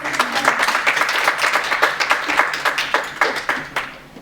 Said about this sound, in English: Okay, so let's give them a round of applause.